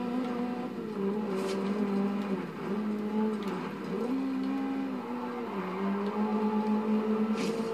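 Ferrari race car engine in the Forza Horizon 2 racing game, a steady droning whine that rises and falls with gear changes and revs, holding loud and continuous throughout.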